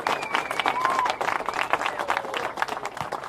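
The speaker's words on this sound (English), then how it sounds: "can we have a round of applause for this amazing person?" A community center audience claps in a brief round of applause, dense and fairly close, with a few whistles or cheers mixed in over a few seconds.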